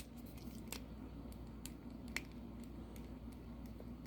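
A S.H. Figuarts Guil action figure gives a few faint, sharp clicks from a joint as it moves, spaced irregularly against a quiet room hum.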